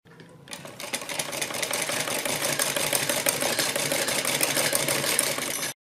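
A sewing machine runs continuously through kurti fabric for about five seconds, a fast, even mechanical whir close to the listener, then cuts off abruptly into silence.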